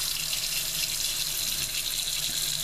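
Water from a kitchen sink faucet pours steadily into a container of ramen noodles, a continuous close hiss with no voices.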